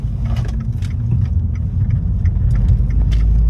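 A stage 1 tuned Fiat 500 Abarth drives along, its engine a loud, deep, throbbing rumble heard from inside the car, holding steady and swelling slightly as it pulls.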